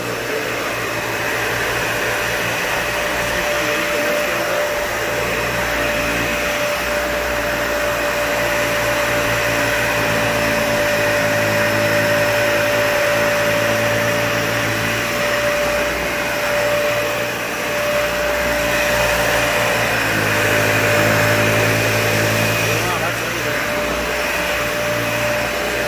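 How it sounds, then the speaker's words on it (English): A Dyson vacuum cleaner runs steadily over carpet, a loud constant motor whine and airflow roar, close and uninterrupted for nearly half a minute with no talk. "Let's go back over with the Dyson."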